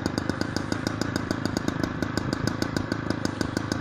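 Motorcycle engine running steadily at a fast idle, close and loud, with a rapid regular clattering pulse and mechanical rattle throughout, no voices.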